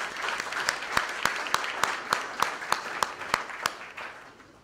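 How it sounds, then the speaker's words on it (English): An audience at a legislative reception applauds, a soft wash of clapping with one pair of hands cracking out about a dozen sharp, evenly spaced claps before the sound tapers off. "I'd like you to give them a round of applause and thank them for being here."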